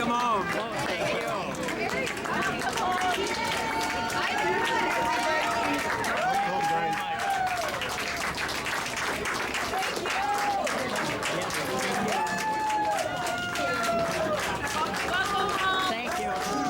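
A large crowd applauds and cheers to welcome home veterans returning on an Honor Flight to Washington D.C., with sustained clapping and scattered shouts while nearby voices chatter throughout.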